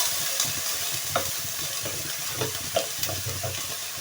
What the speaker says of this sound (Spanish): Sofreímos bien la cebolla